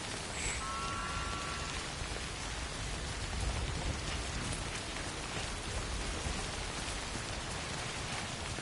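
Steady rain falls in the video game Death Stranding, a dense, even hiss of drops on the ground that holds at a constant level throughout, with a faint high tone near the start.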